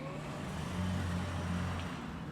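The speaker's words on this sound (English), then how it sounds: "I'm gonna give it a little gas." Engine note of a 2020 Toyota Camry Hybrid as the driver applies light throttle on a flatter road, a low steady hum that rises slightly in the middle and stays fairly quiet, heard from inside the car with no talking.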